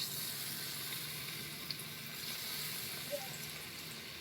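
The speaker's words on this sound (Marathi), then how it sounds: "आम्ही पनीर बुडवून मिक्स करून ते तेलामध्ये सोडत आहे" Batter-coated paneer frying in hot oil in a kadhai makes a faint, even sizzle and hiss with a few tiny pops, steady and quiet throughout, with no voices.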